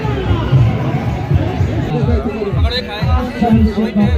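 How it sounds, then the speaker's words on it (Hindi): A crowd of Amarnath Yatra pilgrims chatters at a community food camp in Bhagwati Nagar, Jammu, a close, busy babble of overlapping voices. "भक्तों की भीड़।"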